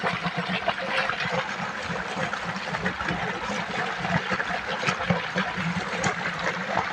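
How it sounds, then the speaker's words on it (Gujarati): Irrigation water runs into a mustard field, a continuous, close trickling and gushing flow that stays steady and fairly loud throughout. "પાણી ચાલુ છે"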